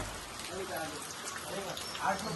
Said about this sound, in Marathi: तुम्ही बघू शकता किती पाऊस पडतोय आणि त्या पावसात आता आम्ही आलोय